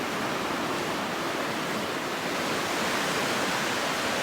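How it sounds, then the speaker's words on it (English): Roaring glacial meltwater river in June racing below a bridge in the Khevsureti mountains of Georgia, a dense, steady broadband rush of whitewater that stays loud and unbroken throughout with no voices. "And meanwhile, the water is racing below us."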